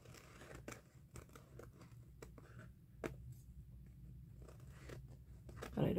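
Scissors trim the ragged edges of paper in a series of separate crisp snips spaced out over several seconds, with quiet rustling of paper between cuts.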